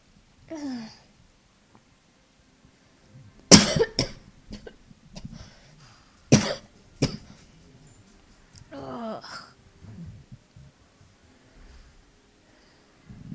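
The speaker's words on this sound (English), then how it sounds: "my cough thing is getting worse" Several harsh coughs burst out at intervals, close and loud, separated by quiet breathing and a couple of groaning vocal sounds.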